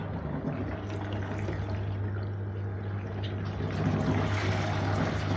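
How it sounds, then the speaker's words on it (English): Aquarium water pump straining as it draws in air during a roughly 40% water change, a steady low droning hum with gurgling, watery sloshing that grows a little louder near the end, close by and with no talk. "I can hear the pump is starting to struggle because it sucks in air from that point"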